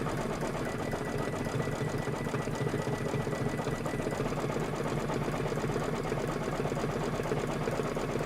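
A sewing machine runs steadily, stitching fabric in a continuous even whir for several seconds without pause, with no talking.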